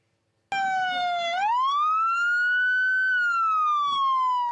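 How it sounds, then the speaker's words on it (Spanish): A Chilean Carabineros police siren sounds for a fallen officer, starting abruptly and holding a loud, steady electronic wail with a slow rise and fall in pitch, close and alone. "La sirena rinde honores."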